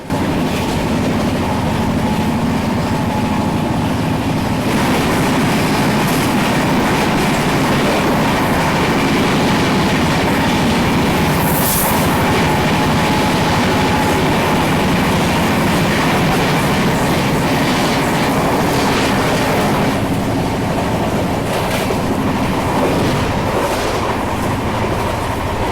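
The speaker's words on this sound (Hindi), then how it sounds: "फिलहाल अभी हम महाबोधि एक्सप्रेस को ओवरटेक करने वाले हैं।" The Bihar Sampark Kranti Express runs at speed past the Mahabodhi Express, a loud, constant roar of wheels and rushing air with steady rail clatter and occasional squeal, heard from on board without a break.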